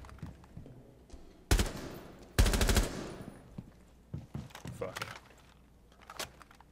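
Bursts of automatic gunfire in the video game Rainbow Six Siege, two loud rapid volleys followed by scattered clicks and lighter shots, with people talking over the game sounds.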